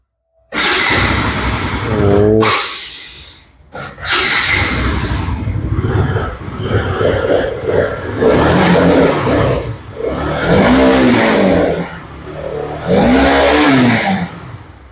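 A 2021 RS 200 motorcycle in fresh condition at a second-hand bike showroom revs repeatedly. The engine rises and falls loudly and close by, with short pauses between bursts and a brief idle at the start.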